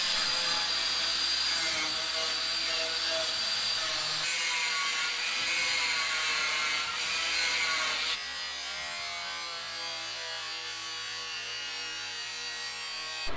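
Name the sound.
cutting pieces for an aluminum radiator cover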